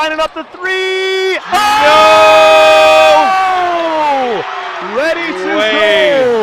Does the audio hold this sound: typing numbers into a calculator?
no